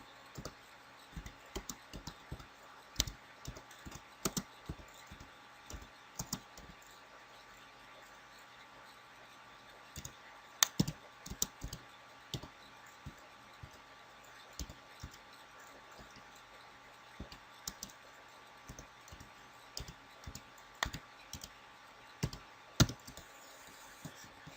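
Someone types text on a computer keyboard, producing faint, irregular bursts of close key clicks and taps separated by short pauses over a quiet background.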